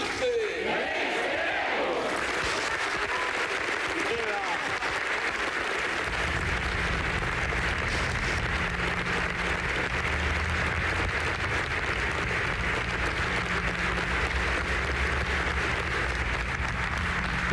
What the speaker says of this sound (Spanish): Estamos mostrándoles el pleno, la ovación a Raúl Castro, y escuchaban ustedes los gritos de saludo a Fidel Castro